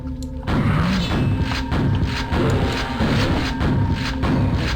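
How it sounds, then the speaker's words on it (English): Double-barreled shotgun blasts in a first-person video game, a rapid series of booming thuds over a dense, continuous wash of game noise, loud and close throughout. "you can shoot things with the double-barreled shotgun of death"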